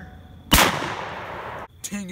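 A loud, close shotgun blast fired at thrown pumpkin pieces, a single sharp report with a long decaying roar, followed by a brief voice.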